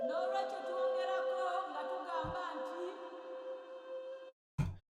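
A sustained, processed Wakanda-style vocal one-shot sample from a sample kit holds one droning note for about four seconds, then cuts off before a short, sharp percussive hit.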